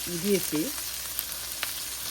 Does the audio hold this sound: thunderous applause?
no